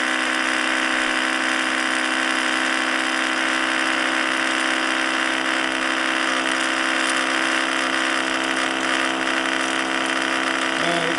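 A small homemade electric Thomas motor with one coil and four magnets spins near 4000 RPM, making a steady, loud, close high-pitched whine that holds unchanged for the whole stretch.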